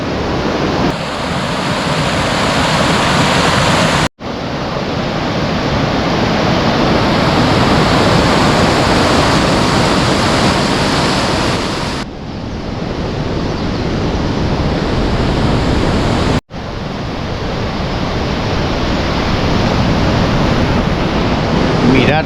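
Powerful river current rushing past a footbridge near the Cueva del Gato trail, fed by the Cascajales spring, a loud continuous broadband roar close by, with brief dips in the flow of sound.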